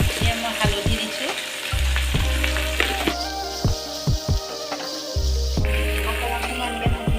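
Pigeon meat frying in a pan with turmeric and salt, a steady close sizzle broken by repeated scraping stirs and knocks of a spoon against the pan, no voices.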